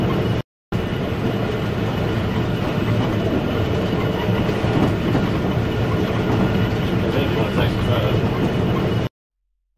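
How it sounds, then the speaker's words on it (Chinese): A wine train running from Adelaide toward Jacob's Creek in Australia rumbles steadily along the tracks, a dense, continuous rolling noise heard from on board, with a brief dropout near the start. "录像来自16年前，从澳大利亚阿德莱德到雅各布斯西的葡萄酒列车上"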